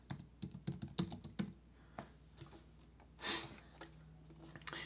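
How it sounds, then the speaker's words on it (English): Computer keyboard typing a short search in a web design app, a quick burst of close key clicks followed by a few scattered taps and a softer pause. "go to design and templates and just type in Halloween shirt"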